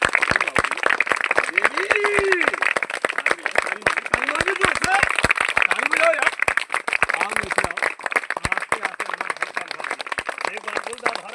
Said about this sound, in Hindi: तू तलिया बजाइया जोर से